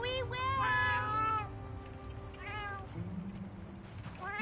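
Palico cat companion in Monster Hunter Wilds giving several drawn-out meows in quick succession, near and clear, with a softer mew near the end.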